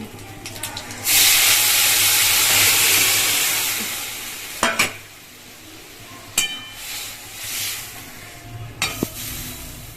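A loud sizzle erupts as lentils hit a hot pan of oil with fried cumin, chilli and bay leaves, the hiss slowly fading, with a few sharp clanks of utensils afterward.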